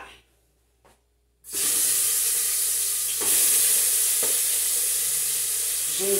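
After a quiet moment, food hits a hot pan and sizzles loudly and continuously, with occasional stirring scrapes, as ingredients for chicken and rice soup with vegetables are sautéed.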